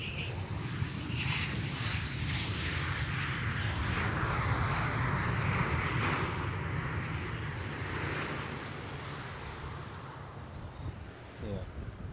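A KLM Boeing 737 from Milan at Schiphol gives off a steady, broad jet engine roar that swells and then eases slightly, heard from a distance with wind noise.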